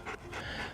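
A dog that is learning a recall command pants in quick, breathy bursts, close and alone.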